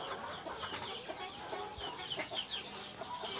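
Ayam Cemani chickens of the lidi-feathered type cluck in a pen on a poultry farm, faint scattered calls over a low noisy background, with no talk.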